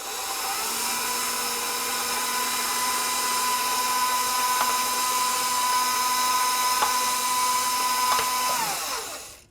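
Steady, loud electric motor whine from a sausage stuffer pushing seasoned meat into casings for homemade Tuscan sausages, running unbroken for several seconds before winding down at the end, with no talking.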